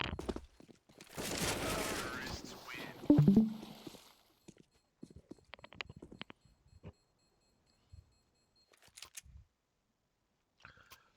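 AK rifle fire in a Counter-Strike league match on the Anubis map: a dense burst of rapid shots up front, then scattered single cracks, clicks and faint game noises trailing off into near silence.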